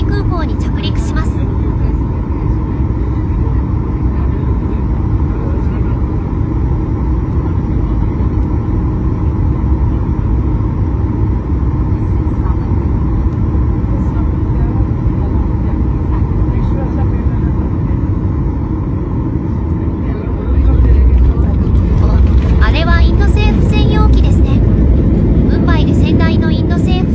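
Steady loud cabin roar inside an airliner on landing approach to Indira Gandhi International Airport in New Delhi, a constant low rumble that grows heavier near the end, with talk over it.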